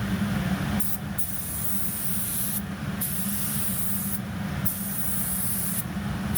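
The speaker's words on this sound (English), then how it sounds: "we're going to go ahead and spray the KBS Top Coater" Steady hiss of a spray gun applying KBS Top Coater to a primed toolbox, running continuously in several long bursts with brief pauses between them, close and fairly loud.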